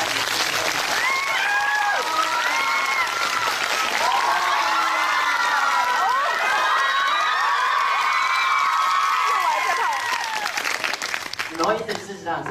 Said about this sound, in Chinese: 我希望全场在热烈的掌声送给这位三位非常